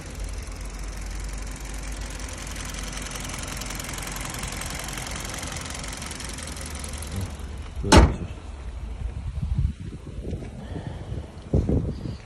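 A steady engine idles with a low, even rumble for several seconds, then cuts off with a sharp clunk, followed by quieter knocks and shuffling.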